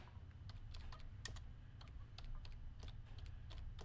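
Steady close typing on a computer keyboard, a brisk run of light clacking keystrokes over a low background hum, with no voices.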